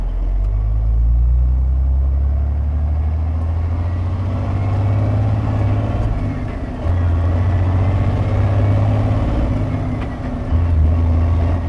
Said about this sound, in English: Notice the engine RPM changes.